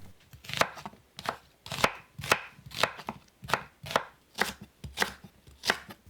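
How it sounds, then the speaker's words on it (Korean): A knife chops through one onion on a cutting board in ten or so steady, evenly spaced strokes, close and crisp with nothing else around. "양파 1개를 썰어 주세요."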